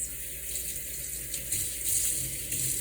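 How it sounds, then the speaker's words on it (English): Gravlax salmon rinsed under a running tap, a steady broadband rush of water splashing into a sink, continuous and fairly close with slight surges, no talking. "let's give this a little bit of a rinse."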